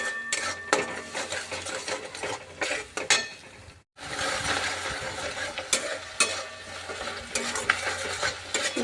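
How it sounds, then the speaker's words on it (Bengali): Spices with turmeric and salt fry and are stirred in a pan for a Bengali pabda fish curry, a close continuous sizzle punctuated by scraping and clinking of the spoon against the pan, with a short pause midway. "মশলাটা ভাজানো হয়ে গেছে"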